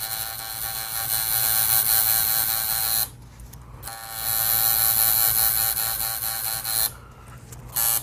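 A tattoo machine buzzes steadily while shading skin, close and continuous, stopping briefly around three seconds and again near seven before resuming.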